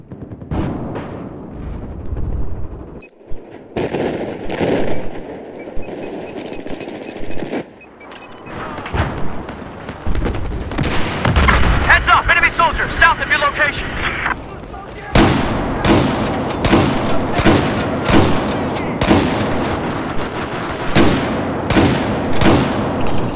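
Gunfire from the Battlefield 4 video game on the Zavod 311 map rattles in dense bursts and rapid automatic strings, loud and close, continuing almost without a break, with people talking over it.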